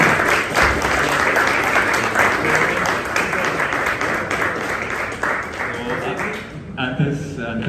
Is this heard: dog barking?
no